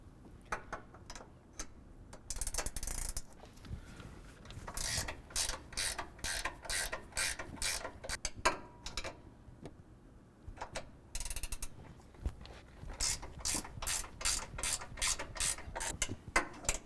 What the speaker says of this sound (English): use an 18 millimeter ratcheting wrench and loosen up the 3 nuts that hold